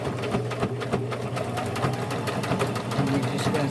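A sewing machine stitches along the hem of a pair of jeans, a fast, steady mechanical chatter of needle strokes that runs without pause, close and fairly loud.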